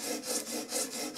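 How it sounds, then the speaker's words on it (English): A plane iron's edge is rubbed back and forth on 240-grit sandpaper in steady, even strokes, about two or three per second. The dry, rasping scrape is close and alone, with no talking. "what we're going to do is use graduating sandpaper"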